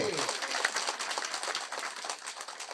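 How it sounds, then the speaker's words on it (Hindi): A church congregation claps vigorously in a dense, crackling burst of applause that holds steady and tapers slightly over a few seconds. "पिता परमेश्वर के लिए जोरदार ताली बजाएंगे"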